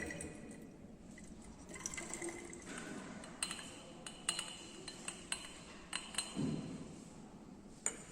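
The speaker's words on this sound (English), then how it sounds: "Then add 50 ml of distilled water" Distilled water trickles into a glass lab flask during an ammonium chloride assay, a soft filling flow interrupted by several sharp glassy clinks and taps, quiet and close with no talking.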